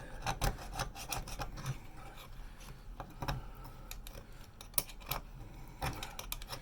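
Old gasket material is scraped off a brass element base by hand in a series of close, rough rasping strokes at an uneven rhythm, with short pauses between bursts.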